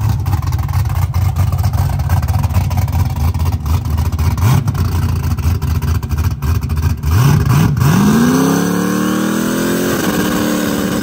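A small-tire no-prep drag race car makes a shakedown pass at Chuckwalla Raceway at night: a loud, rough engine idles and blips in short revs, then roars and climbs steadily in pitch as it pulls away.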